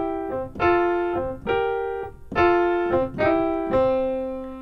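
Blues lick on jazz piano, each chord on top alternated with a repeated C, played alone as a steady run of several struck, ringing chords with clear sustain between them.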